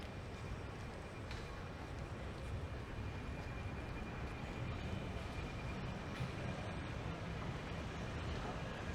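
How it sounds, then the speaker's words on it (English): A steady rumble of a tram rolling along a street in Amsterdam's De Pijp neighbourhood, continuous and fairly close, with murmuring voices mixed into the noise. "Is this tram coming this way?"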